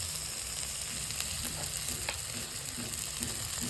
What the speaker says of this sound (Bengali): আমার তেল গরম হয়ে গেছে আমি দেবো পেঁয়াজ বাটা পেঁয়াজটা মোটামুটি হালকা লাল হয়ে যাচ্ছে আমি এর সঙ্গে রসুন বাটা দিয়ে দেবো